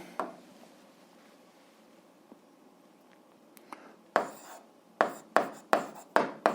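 A pen writes on paper while working an 8th-grade algebra exercise, faint scratching at first, then several sharper strokes and taps in quick succession near the end.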